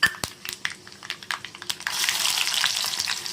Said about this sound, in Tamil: வெந்தயமும் பொரிய தொடங்கிருச்சு.